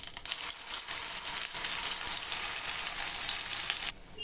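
Steady, loud sizzling of ground tomato paste frying in hot oil with mustard seeds, with faint stirring, before the sizzle suddenly drops off at the end.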